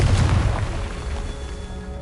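A Confringo spell explosion in Hogwarts Legacy, a single loud booming blast at the start that quickly decays into a rumbling tail.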